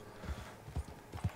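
A horse in the Red Dead Online video game clip-clops with a few soft hoof beats in uneven rhythm, faint and alone without talk.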